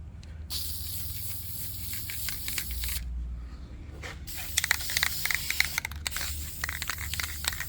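Spray paint hisses onto brake calipers in a few sharp bursts separated by short pauses, close and fairly quiet, with small scrapes and clicks between the sprays.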